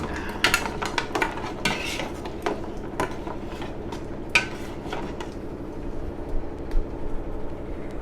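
Salted black beans are stirred into a boiling cooking pot, with repeated scraping and clinking of a utensil against the pot in irregular strokes over a low steady simmer, close and moderately loud.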